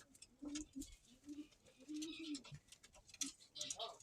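Pigeons coo in low, repeated calls up close, mixed with fluttering and soft pecking taps, while a person speaks quietly nearby.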